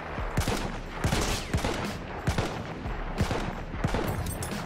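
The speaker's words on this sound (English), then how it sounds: "Shots are being fired." Dense automatic gunfire in the video game Battlefield, rapid overlapping bursts and shots fired continuously and loudly throughout.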